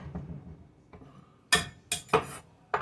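A bowl is taken out and set down in a home kitchen, a few sharp ceramic clinks and knocks in quick succession after some softer handling sounds.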